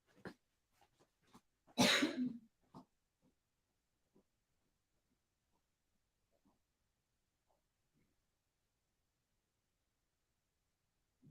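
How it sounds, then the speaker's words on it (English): A single loud, harsh cough bursts out near the microphone, followed by a few faint clicks and rustles in an otherwise quiet room. "I don't want to keep coughing on you for the rest of the thing"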